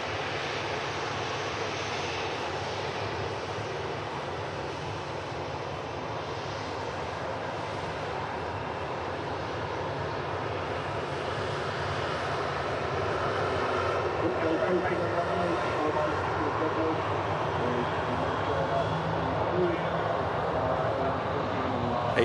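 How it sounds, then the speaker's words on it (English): An ATR 72 turboprop airliner climbs out of Manchester, a broad steady engine roar heard from a distance that slowly grows louder. "ATR 72 climbing out of Manchester. It's heading back to Dublin."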